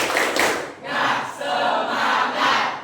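Classroom group doing a rhythmic spirit clap chant, loud shouted voices in unison with claps, coming in three or four surges close to the microphone.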